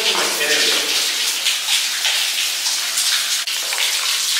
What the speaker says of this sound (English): Nah, it's like a waterfall, though.